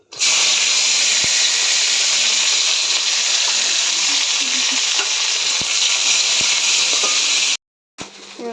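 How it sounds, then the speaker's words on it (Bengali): Cashews and raisins fry in hot ghee in a home kitchen, producing a loud, continuous close sizzle and hiss with a few faint clicks. The sizzle cuts out abruptly near the end and then resumes. "আমি ঘিটা গরম হলে এর মধ্যে কাজু কিশমিশটা হালকা করে একটু ভেজে নেব।"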